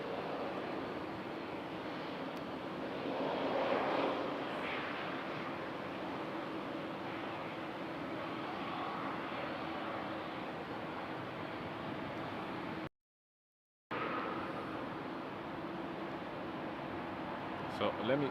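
Jet aircraft landing and taking off at Amsterdam Schiphol Airport in the evening: a continuous distant engine roar, swelling slightly at times, with a short dropout partway through.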